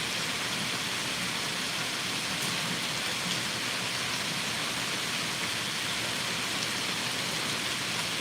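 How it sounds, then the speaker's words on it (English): Steady rain falling on leaves outdoors, a dense even hiss of drops that never lets up, with no voices. "it's raining. And I'm sitting here watching the raindrops fall on the leaves"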